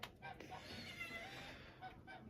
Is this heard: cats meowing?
yes